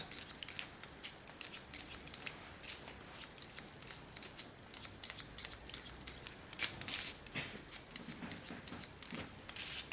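Scissors cut hair during a short haircut, heard as rapid, repeated crisp snips very close to the ear, quiet and continuous with no talking.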